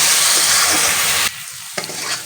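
Dal being sautéed in a pan with a splash of water for bottle gourd dal, a loud steady sizzle that drops off abruptly partway through, followed by quieter stirring scrapes and a brief hiss.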